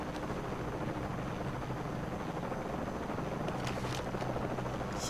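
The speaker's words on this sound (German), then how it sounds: "eigentlich muss ich genau dahin, wo der Hubschrauber ist." Helicopter in the video game Shadow of the Tomb Raider, a steady, loud rotor and engine roar that fills the whole stretch without any break or talk.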